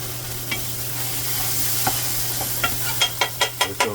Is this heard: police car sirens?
no